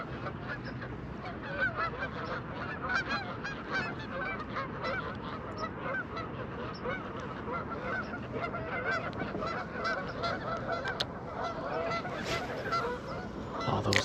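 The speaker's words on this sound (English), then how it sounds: "All those geese over there." A flock of geese honks continuously from near a small island out on the water, a busy, overlapping chorus of calls at moderate distance across a fall lakeside bank.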